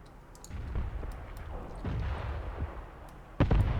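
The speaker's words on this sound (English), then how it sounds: "This mortar strike and this artillery strike, they are basically just to make sure that the enemy" Mortar and artillery shells landing in the WWII tactics game Graviteam Tactics Mius, with several dull booms and a sharp, louder blast near the end over a steady rumbling battlefield.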